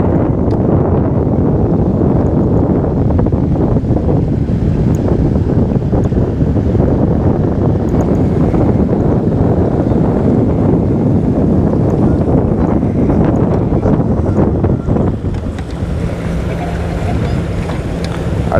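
Strong, gusty wind of around 15 to 20 mph buffets the microphone on a small fishing boat with a trolling motor, a loud steady roar with rushing water beneath it and no pause across the whole stretch.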